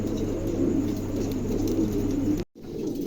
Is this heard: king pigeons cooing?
yes